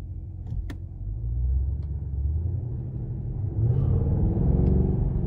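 2020 Cadillac CT6-V flagship V-Series sedan engine rumbling while driving, a steady low hum and road rumble heard from inside the quiet cabin, swelling slightly partway through with a few faint clicks.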